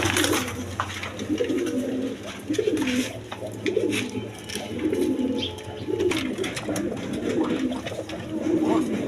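Pigeons coo in a steady series of low, rolling calls close by, with clicks and shuffling noises and a possible faint voice in the background.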